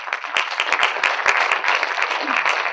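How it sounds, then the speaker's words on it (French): An audience at a French conference on hospitality and tourism applauds with dense, steady clapping throughout, moderately loud and filling the room, with no voices over it. "sous vos applaudissements, nos deux premiers intervenants, Amandine Lecoq et Dominique Hummel."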